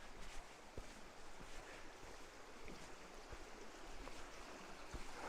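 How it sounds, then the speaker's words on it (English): Water falls into a mountain stream at Tamarack Lake in Desolation Wilderness, California, in winter, rushing and gurgling steadily, a broad continuous wash with occasional small splashes and faint wind, no voices. "the water is falling down into a stream"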